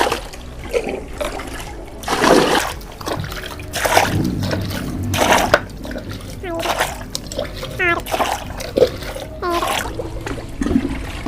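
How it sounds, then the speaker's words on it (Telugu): Diluted rice-water solution is poured over potted plants at home in repeated splashy gushes and trickles, close and fairly loud, while people and someone talk throughout. "ఆ ద్రావణం పోసాను కదా"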